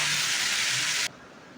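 A loud steady hiss of steam as a little water is poured into a hot pan of frying ivy gourd, sizzling for about a second and then cutting off abruptly to quiet.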